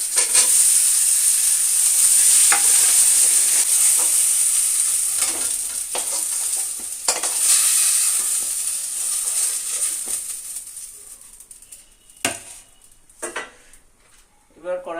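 Eggplant pieces sizzle steadily in a pan with a little turmeric and salt, a constant loud hiss broken by occasional spatula scrapes and stirring clatter that grows sparser toward the end.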